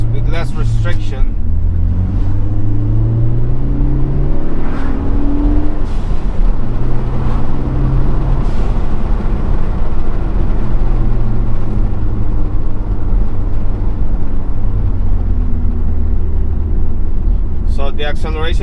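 A Ford Focus ST with an upgraded air filter intake accelerates, its engine note rising and shifting in pitch through a loud, continuous roar that stays strong from start to end.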